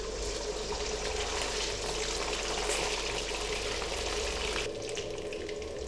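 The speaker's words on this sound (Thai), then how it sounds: "นี่นะครับจะทอดเนื้อให้มันแบบว่ามีสีน้ำตาลสวยๆแบบนี้นะครับ" Beef sizzles steadily in very hot oil in a pan, a dense, continuous frying crackle close by, with no talking.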